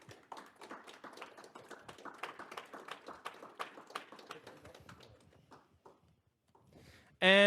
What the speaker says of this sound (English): let's clap it up for our sponsors